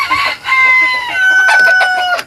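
A bad-tempered Buff Polish rooster and its hens give loud, close clucks and squawking calls in quick bursts, with a crow-like harmonic cry running through the middle.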